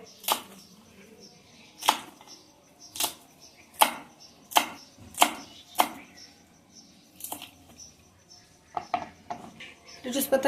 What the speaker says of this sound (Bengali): এখন লেটুস পাতা দুটো আমি কুচি করে কেটে নেব।